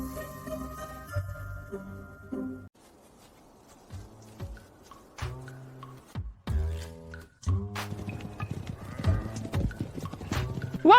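War horses clip-clopping in a fantasy setting, several sharp hoof strikes in uneven bursts with quiet gaps between them, and a whinny, close and clear.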